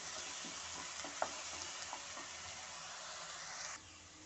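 Small onions, ground, sautéing in a pan for a goat head curry, a faint steady sizzle with occasional light stirring taps, ending in a quieter hiss.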